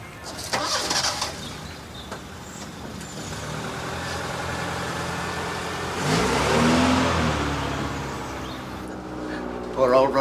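A car engine starts and the vehicle pulls away and drives off, rising to a louder surge midway before fading, with voices talking throughout.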